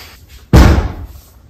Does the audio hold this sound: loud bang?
yes